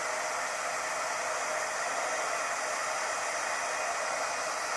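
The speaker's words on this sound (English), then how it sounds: "let's emboss this quickly" A heat gun melts embossing powder on a foil greeting card, giving a constant, even hiss of blowing air that runs unchanged throughout, with no talking.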